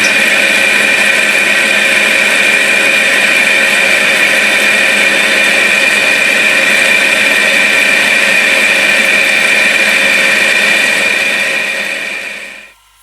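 A lathe taking an internal turning cut at 375 rpm with a TSMT insert of 0.8 radius at 4 mm depth, a loud steady whirring hum with a whine on top that fades out at the end.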